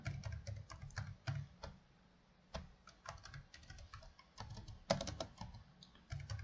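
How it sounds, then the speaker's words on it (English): Steady typing on a computer keyboard while entering code for a Spring MVC, TypeScript and Angular web application, with irregular bursts of close, crisp key clicks and short pauses between words. "And now here I will type category."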